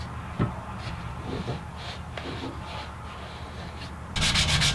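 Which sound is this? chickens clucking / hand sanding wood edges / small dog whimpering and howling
hand sanding wood edges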